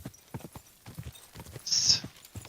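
Horse hooves clip-clop in a steady, close rhythm while riding in the video game Kingdom Come: Deliverance 2, with a brief hissing burst partway through.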